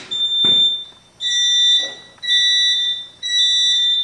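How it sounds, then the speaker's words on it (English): A loud, piercing fire alarm sounds in three long beeps separated by brief pauses, in a temporal pattern. "The strobes are set for temporal, which means 333, or beep, beep, beep."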